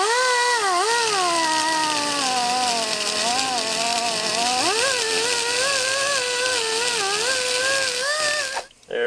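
A 90-degree die grinder ports a Chevrolet Cutlass cylinder head, whining loudly and continuously with its pitch sliding up and down as the load changes, then dipping briefly near the end.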